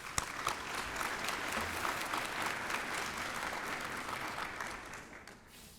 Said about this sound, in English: How about a round of applause for all these great sponsors?